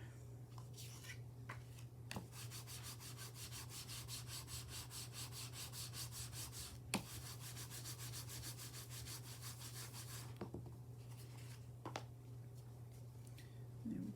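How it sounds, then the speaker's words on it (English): A bone folder burnishes watercolor card in quiet, close rubbing strokes that repeat steadily over a constant low electrical hum, with a few soft taps between passes. "I'm going to use my bone folder, give that a nice"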